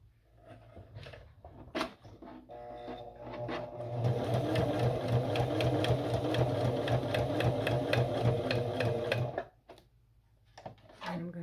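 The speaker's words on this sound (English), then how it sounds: "I'm just going to sew it from the top" A sewing machine stitches through paper tags, running in a steady close whirr for about five seconds, with a few clicks and handling sounds before and after.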